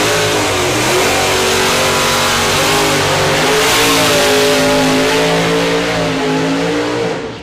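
Audi TT race car tearing down a drag strip, its engine revving hard and rising steadily in pitch through the gears, loud and close for the whole run before easing off at the end.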